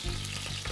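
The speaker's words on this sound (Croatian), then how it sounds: "povremeno okrećući pržimo ga sa svih strana" Meat for Dalmatian pašticada sizzling in a pot as it fries, a steady close crackle with a brief stir of turning, no voices.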